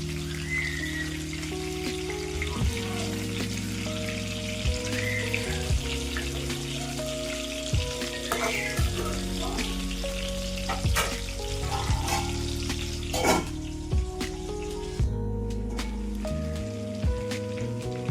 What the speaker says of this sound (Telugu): రెండు వైపులా తిప్పుకుంటూ ఫ్రై చేసుకుంటే సరిపోతుంది